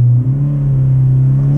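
Lada XRay engine held in first gear in sport mode, a loud, close, steady droning rumble at high revs throughout, with no speech.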